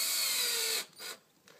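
A power drill drives screws into wood while assembling a mini rig, a steady whine lasting most of a second, then stopping, followed by a brief second burst and a faint click.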